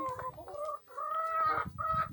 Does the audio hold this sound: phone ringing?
no